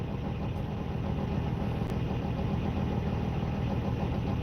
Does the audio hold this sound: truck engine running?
yes